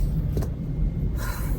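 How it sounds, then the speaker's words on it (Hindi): A car being driven on a long road trip, its engine and road noise forming a close, steady low rumble with a faint brief whoosh and a hissy rise near the end, and no one speaking. "चल रही है गाड़ी।"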